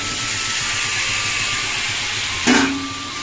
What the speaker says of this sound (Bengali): দেখো বন্ধুরা, মশলাটা আমার কষানো হয়ে গেছে, তো এবার দিয়ে দেবো মাখিয়ে রাখা চিকেন।